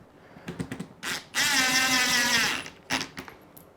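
A power driver sends screws into the top and bottom of a ready-to-assemble kitchen cabinet, with a few clicks and knocks, then a sustained close whirring run of over a second, followed by more taps.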